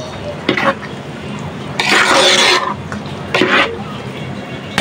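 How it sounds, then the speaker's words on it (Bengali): Beef biryani is stirred in a pot over a low flame, a few bursts of spoon scraping and clatter against metal, loud and close, separated by brief pauses. "ভালোভাবে নাড়াচাড়া করে দিব"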